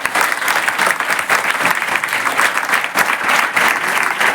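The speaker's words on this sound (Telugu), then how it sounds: "అటువంటి వాళ్ళకి మనం గట్టిగా చప్పట్లు కొట్టాలా?" Students at a girls' junior college in Hyderabad clap loudly together for their teachers during a motivational class, a dense, sustained round of applause from a large group that continues steadily throughout.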